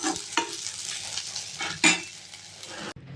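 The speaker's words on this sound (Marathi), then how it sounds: "आणि कांदा पण परतून घ्यायचा।" Onion with coriander seeds and peanuts sautéing in a pan, a steady close sizzle broken by a few sharp scrapes and stirs of a spoon, with no talk.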